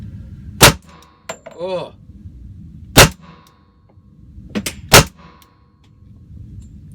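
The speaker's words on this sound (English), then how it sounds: "God, it's been a while since I shot a 45." .45 pistol fired slowly at a range, three loud sharp shots spaced a couple of seconds apart, each with a ringing metallic clang, plus a short exclamation from a voice.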